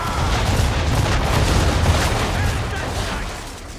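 Ship cannons firing a volley in Assassin's Creed 3, a loud sustained roll of booming blasts that fills the whole moment, then trails off slightly at the end.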